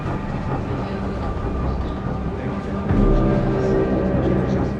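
A train pulls out from a station during a chase scene, its steady low rumble and rail noise swelling louder about three seconds in, with voices faintly mixed under the rolling sound.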